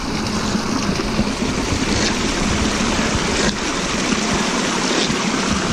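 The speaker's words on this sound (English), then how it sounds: "My favorite stream to drink from in the valley" A flowing stream in a valley rushes steadily and evenly, a continuous close wash of water with no breaks.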